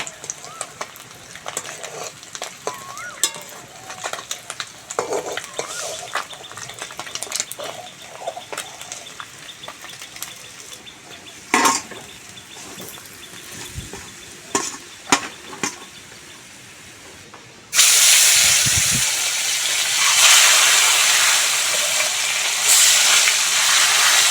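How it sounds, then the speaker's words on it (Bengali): Parshe fish frying in oil in a pan: a soft crackling sizzle with scattered clicks and utensil knocks, then a much louder, dense hiss of frying that takes over for the last several seconds. "ভালো করে ভেজে নিয়েছি এবার ভাজা মাছগুলো তেল থেকে তুলে নেবো"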